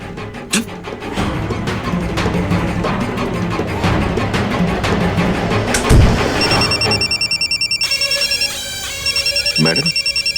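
A telephone rings repeatedly in a TV drama scene, electronic ring bursts in a steady pulsing pattern arriving after background noise and voices, loud and close.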